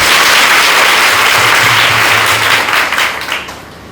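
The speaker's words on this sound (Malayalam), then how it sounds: "ശക്തമായ ആഗ്രഹം ഉണ്ടെങ്കിൽ ഒന്ന് കൈയടിക്കാം" Audience applause in a crowd at a pilgrimage gathering in Cherukol, a dense continuous wash of hand clapping that holds steady and then thins out toward the end.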